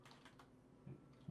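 Keys tap on a computer keyboard hooked up through a USB-C hub, a few quiet scattered clicks with small gaps between them, faint and close by.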